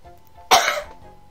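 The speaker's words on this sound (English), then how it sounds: "Watch me, like, coughing all the way from the mic" A single sharp cough close to the microphone, one loud burst that trails off within about a third of a second over quiet background hum.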